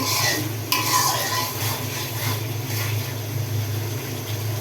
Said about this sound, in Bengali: এখন মশলাটাকে ভালোভাবে কষে নিচ্ছি যতক্ষণ করে তেল না উঠছে